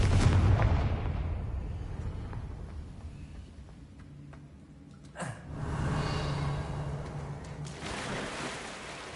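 A Confringo blasting spell goes off in a video game: one sharp burst near the middle, then a rumbling explosive tail over low ambient noise, with no speech.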